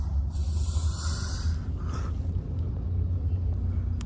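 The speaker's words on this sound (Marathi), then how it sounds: "पूर्णपणे ट्रॅफिक जाम झालेलं आहे दीड तास झाले आम्ही कॅबमध्ये" A cab waits in stalled traffic. A low engine and road rumble runs steadily from inside the vehicle, and a brief hissy burst is heard early on.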